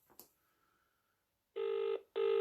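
An electronic telephone ring chimes twice, loud and close, each burst about half a second long with a short gap, following a brief rustle and faint background hum.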